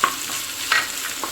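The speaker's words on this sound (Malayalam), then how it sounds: "ഇത് നന്നായിട്ട് ഇളക്കി കൊടുക്കുക." Onions stirred in a frying pan for a pork fry, a few soft scraping strokes over a steady light sizzle, close and fairly quiet.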